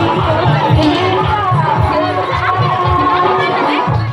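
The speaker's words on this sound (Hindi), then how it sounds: "देख रहल छियै बाबा धनकेश्वर नाथ के प्रांगण में कतेक भीड़ लागि रहल है" Steady chatter from a dense crowd fills the courtyard of the Baba Dhankeshwar Nath temple during the Narak Nivaran Chaturdashi fair in Neuri, Biraul, Darbhanga, a continuous loud babble of many voices close around.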